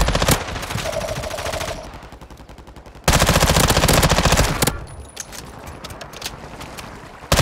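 Bursts of rapid automatic gunfire in Call of Duty Warzone, loud dense volleys at the start and again mid-clip, with quieter scattered shots and in-game noise between them.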